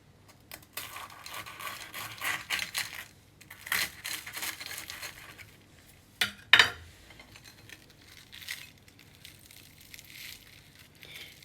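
A fried bread chicken kachori filled with cheese is cut open, giving crisp crunching and crackling bursts with a few sharp knife or plate knocks, fairly close and steady over several seconds.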